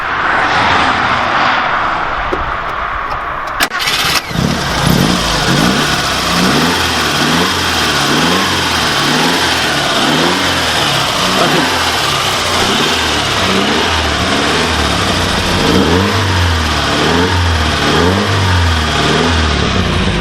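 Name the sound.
Alfa Romeo Arna engine starting and revving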